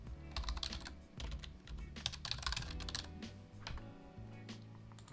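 Rapid keystrokes on a computer keyboard while a URL is typed into a hyperlink field, a steady run of close, crisp clicks over a low background hum, with no voices.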